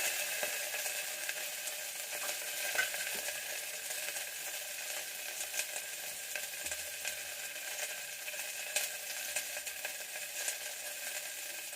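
Shallots frying in hot oil with cinnamon and spices for a kuzhambu, a steady, faint crackling sizzle throughout with small pops and light stirring.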